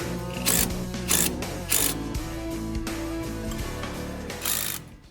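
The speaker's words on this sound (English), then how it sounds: "To remove the sway bar link, you'll need a 15 millimeter on the top and a 13 millimeter on the bottom." A wrench loosens the sway bar link nuts on a Chevy Colorado ZR2, 15 mm on top and 13 mm on the bottom, heard as a few sharp ratcheting bursts over a steady mechanical hum.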